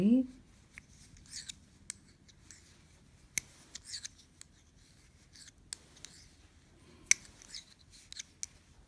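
Knitting needles work yarn through purl and knit stitches with soft, close clicks, rustles and scattered sharp ticks at an irregular pace, faint and intimate.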